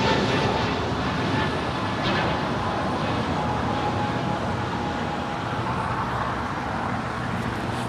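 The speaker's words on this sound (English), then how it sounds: "That was American Airlines Flight 2479 departing to Las Vegas. It's an A321neo." American Airlines Airbus A321neo departing LAX, a broad continuous roar of jet engines heard from a distance, steady and fairly loud with no break and no talking.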